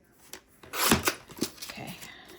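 Scissors cut down a sheet of paper for a junk journal folio, a few close crisp snips and rustles of the sheet over a couple of seconds.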